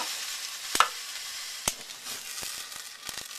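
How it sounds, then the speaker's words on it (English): Half a cup of brandy poured into a hot pan for a beef burgundy, hissing and sizzling quietly while a few sharp clinks and taps break through the steady spatter. "The brandy is to deglaze the pan."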